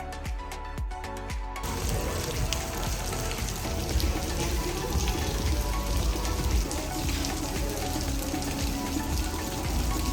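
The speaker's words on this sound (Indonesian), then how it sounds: "Sayangnya pas kita kesini tuh lagi hujan" Rain falls at a beach club in Lombok by the sea, a steady dense patter and hiss that starts abruptly and continues at an even level, with no talking.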